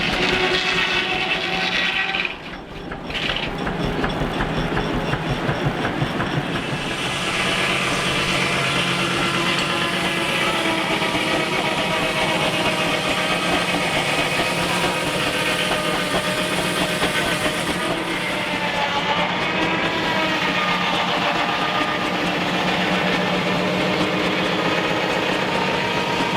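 Steam traction engines running at a Quainton rally, one with high- and low-pressure cylinders and built last year, give a steady, loud mechanical chuffing and rumble with a continuous clanking drone throughout, close to the listener.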